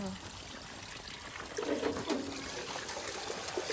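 Water trickles and drains nearby in a house, a soft continuous splashing dribble that grows slightly fuller partway through.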